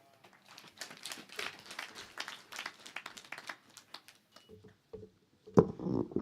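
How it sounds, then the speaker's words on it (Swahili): Applause from a funeral audience in Nyandarua, a spread of scattered hand claps patting along for several seconds before fading, followed by a brief louder rustle at the end. "Tumpigie makofi tena"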